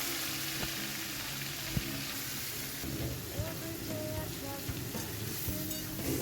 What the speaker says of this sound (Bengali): এরপর আমরা নুন হলুদ দিয়ে ভেজে রাখা চিংড়ি মাছটা ভেজে নেবো